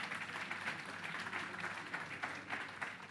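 Audience applause at a Bharat Ko Jano quiz competition, a muffled, steady patter of many hands clapping in a hall, moderately quiet and continuous.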